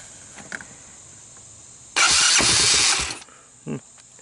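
A Honda TRX200SX ATV, bought cheap for parts, cranks and catches on choke, a loud close burst of engine noise for about a second that then dies away, followed by a brief second rev.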